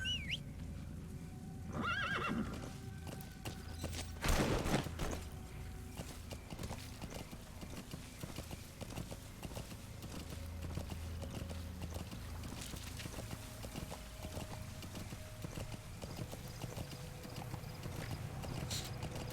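Hooves clip-clop steadily through a long stretch in Metal Gear, with a horse whinnying once early on, against a busy game-like ambience of clatter and low rumble.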